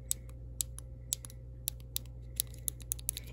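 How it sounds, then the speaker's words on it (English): A cheap bootleg iPod Shuffle's click wheel being pressed, giving sharp, close plastic clicks in an irregular run of about a dozen over a few seconds, against a faint low hum and with no speech. "And then it has this really clicky click wheel here."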